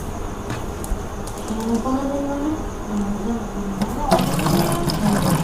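Tap water runs steadily into bottles as they are filled, a continuous close-up gush that grows brighter and fuller near the end, with faint talking underneath.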